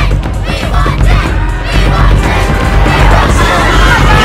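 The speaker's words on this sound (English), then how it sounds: "And the crowd is going wild right now." A crowd at a Jake Paul pop-up cheers and shouts wildly, a loud, continuous roar of overlapping voices and whoops that swells and stays intense throughout.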